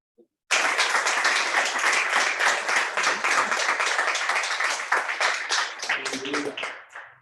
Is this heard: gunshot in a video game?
no